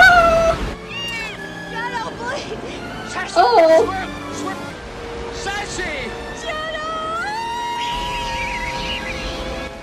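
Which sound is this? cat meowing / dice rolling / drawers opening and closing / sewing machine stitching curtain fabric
cat meowing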